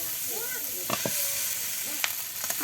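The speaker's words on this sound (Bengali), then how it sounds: "আলুগুলো এবার নেড়ে ছেড়ে একেবারে ভালো করে ভাজি করে নেবে" Boiled potatoes fry in a pan with salt, turmeric and chili powder, a steady sizzle broken by a few scraping clinks as they are stirred, close by.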